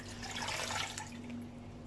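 Water pours steadily into a pressure cooker holding mutton, a close, continuous splashing gush lasting about two seconds with no talking.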